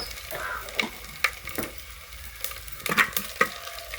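Spices sizzle continuously as they are tempered in oil for a Tamil fish curry while a utensil stirs and scrapes the pan, with sharp clinks and pops scattered through the crackling.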